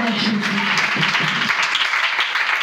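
A church congregation applauds in a dense, sustained burst of clapping, loud and close, with voices calling out over it at the start.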